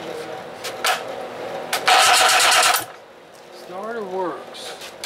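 A Johnson 20 hp outboard's electric starter cranks in a short loud burst of rapid whirring, set between clicks and clatter from the workbench, and a voice is heard later on.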